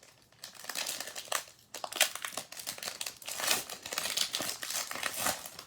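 Empty cardboard box of AEW wrestling trading cards being crumpled by hand, a continuous crinkling and crunching rustle, close and fairly loud, with no voices.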